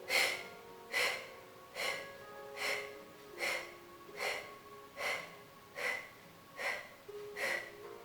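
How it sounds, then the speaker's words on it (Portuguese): Breath of fire breathing exercise during a home workout: about nine sharp, rhythmic forced exhales through the nose, evenly spaced about a second apart, close and clear over faint background music. "Faz a respiração do fogo."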